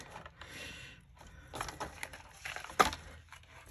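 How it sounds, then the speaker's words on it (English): Cardboard backing being pried and crunched off a picture frame while it is taken apart, a series of rough scraping and cracking bursts with one sharp snap near the end, fairly close and moderately quiet. "So I'm going to take the frame apart. So I'm taking off the backing."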